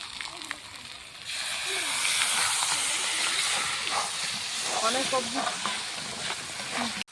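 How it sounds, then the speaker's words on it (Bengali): Mutton for a khasir mangsho dopiyaja fries in a pan with a splash of water, hissing and sizzling loudly after a quieter start, with stirring scrapes and faint voices underneath. "এবার তো তলায় লেগে যাচ্ছে, তাই একটু জল দিয়ে ভাজতে থাকবো।"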